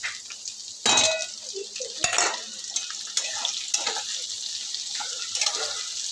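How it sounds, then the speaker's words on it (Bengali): Chopped onion frying in oil with garlic in a pan, a continuous hiss of sizzling broken by clanks and scrapes of a spoon stirring against the metal. "আমার পেঁয়াজটা ভাজা ভাজা হয়ে এসছে"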